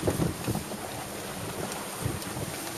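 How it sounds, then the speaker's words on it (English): A sailboat with its tiller chained moves down the New Jersey coast on a breezy day, a steady close rush of wind and water with gusting microphone buffeting and no talk. "Here's Philip manning that helm on a breezy day."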